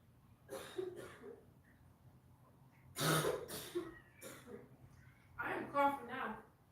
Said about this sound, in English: I am coughing now.